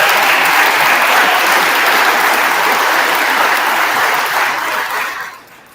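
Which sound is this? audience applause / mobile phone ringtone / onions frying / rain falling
audience applause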